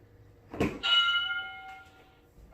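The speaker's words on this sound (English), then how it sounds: "there go the bell" A workout timer bell gives a single bright ring after a soft thump, and the tone fades slowly over about a second and a half, heard alone in a quiet home room.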